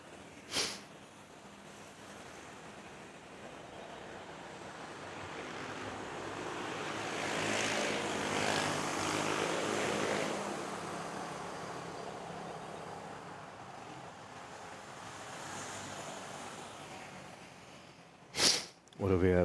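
A Cebu Pacific airliner on flight 5J5054 at Manila Airport rumbles in a broad, distant jet roar that swells and fades, with traffic noise around it and a few sharp bumps near the end.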